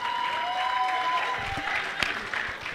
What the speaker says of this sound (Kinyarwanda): amashyi cyane twakire Rafiki